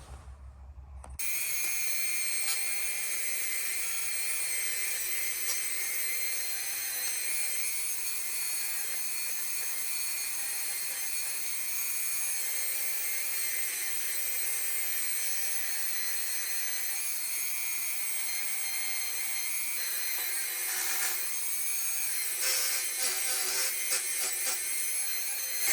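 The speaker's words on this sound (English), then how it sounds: "let's go over there and use my Dremel, and we'll get all the surface rust off" Dremel rotary tool with a small brush removing surface rust from metal multi-tools, a steady high-pitched whine running continuously and close for the whole stretch, with slight shifts in pitch as it presses on the metal.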